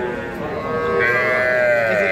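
A young bull calf at a cattle market lets out one long, loud, close moo that rises and shifts in pitch, with no talking over it.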